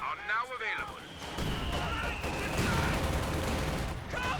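Dense rifle gunfire and mortar blasts crackle through a 3vs3 video game battle as American rifle squads come under fire, a steady rattle of overlapping shots and bursts with faint voice-like sounds running underneath.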